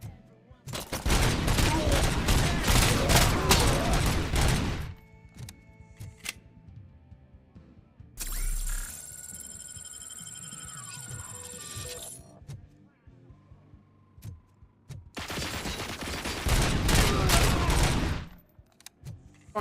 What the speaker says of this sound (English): how dare you shoot me?